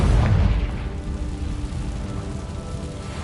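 Confringo fire-blast spell in Hogwarts Legacy, a deep rumbling boom that rolls out loud and then settles into a steady crackling roar, with no voices.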